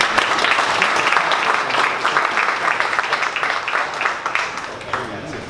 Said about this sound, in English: Give Neelish a round of applause, please.